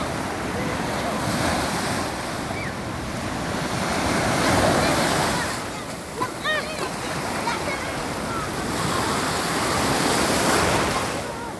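Sea waves wash onto a beach in Gaza, a continuous rushing surf with wind noise against the microphone, while faint voices of people are heard in the background.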